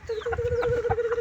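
A rooster clucks and murmurs nearby over a steady tonal hum, with a run of short throaty notes and faint background chatter of other fowl.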